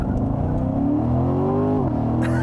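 A 2018 Chevrolet Corvette Grand Sport with a 6.2-litre V8, in sport mode at full throttle, roars loudly and steadily as its engine pitch climbs, dips briefly at a shift, then keeps pulling, with no talking.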